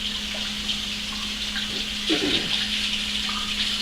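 Tap water runs in a steady hiss into a sink, close and constant, with brief splashing as something is moved under the stream.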